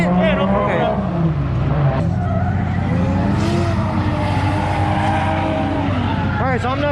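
Nissan Fuga drift car making about 800 horsepower, tearing around Nikko Circuit with a loud droning engine, shifting revs and repeated tire squeals from skidding, close and continuous, with voices faintly mixed in.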